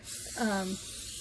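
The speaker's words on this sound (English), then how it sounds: "put some cooking spray in there" Hissing cooking spray aerosol close by in one continuous burst, with a short voiced sound overlapping partway through.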